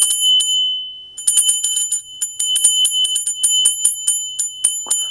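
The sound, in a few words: Japanese Buddhist bell (kokoriko) ringing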